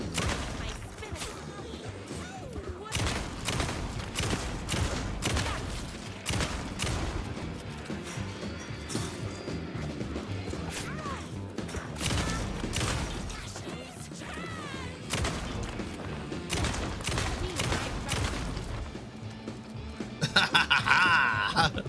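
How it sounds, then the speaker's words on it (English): Fully automatic shotgun in the video game Alan Wake 2 fires in a long run of loud, rapid blasts mixed with dense game sound effects and music. "Fully automatic shotgun."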